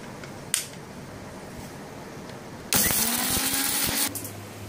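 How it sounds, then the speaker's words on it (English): A kitchen grinder with fenugreek seeds and red chili gives a short click, then roars into a loud high whir for about a second and a half before cutting off, leaving quiet hum. "We're going to grind the fenugreek and red chili."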